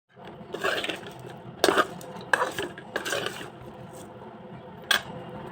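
Brinjal and potato pieces with rock salt stirred in a pan, several dry scraping and rubbing strokes against the metal, fairly quiet and close, with a few sharper clinks.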